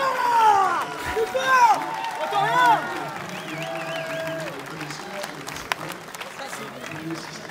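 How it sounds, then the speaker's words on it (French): Spectators at a horse race parade in Craon applaud steadily, a broad wash of clapping with a voice talking over it. "Les applaudissements."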